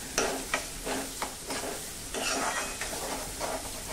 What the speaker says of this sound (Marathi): कांदा मस्तपैकी परतून घ्यायचा आहे